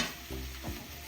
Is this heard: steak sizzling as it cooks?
yes